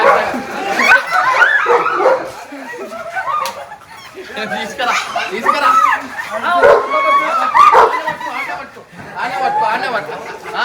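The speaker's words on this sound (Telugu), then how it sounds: "అది పిచ్చి కుక్క ఫస్టే" A dog yips and barks repeatedly amid lively chatter, with people talking close by.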